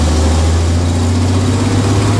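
A V8 engine in a 1967 Ford Mustang idles with a loud, steady, deep rumble and a constant low hum, unbroken and close, with no voices.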